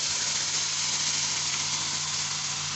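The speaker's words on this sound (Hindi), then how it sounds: "पालक को अब हमने फ्राई करना है।" Spinach frying in melted ghee gives off a steady, dense sizzle, an even hiss held close and constant with no talking over it.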